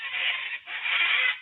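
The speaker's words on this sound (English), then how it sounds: "the noisy little overgrown chickens" Noisy wild birds clucking like chickens, two close, raspy calls in quick succession, loud and alone.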